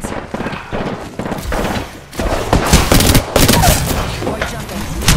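Dense Apex Legends gunfire, rapid automatic bursts and heavy impacts packed close together and loud, with a voice briefly mixed in among the shots.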